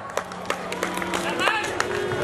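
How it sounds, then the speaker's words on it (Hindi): An audience claps for performers at an outdoor Ramlila drama in Siwani Mandi, a scattered crowd of hands rattling steadily over a murmur of voices and a sustained droning tone from the public address. "इनके लिए भी जोरदार तालियां"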